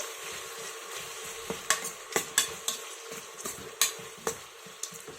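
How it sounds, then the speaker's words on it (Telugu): Ginger garlic paste frying with onions in a pan while being stirred, a steady hiss of sizzling oil broken by repeated sharp scrapes and clinks of a spoon against the pan, close and alone. "ఒక 2 స్పూన్లు వేసి పచ్చివాసన పోయే వరకు వేపేసుకోవాలి"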